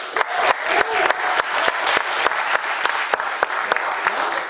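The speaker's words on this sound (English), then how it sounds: "Give them a round of applause." An audience gives a round of applause to military service members, close, dense clapping with sharp individual claps standing out in an uneven rhythm throughout.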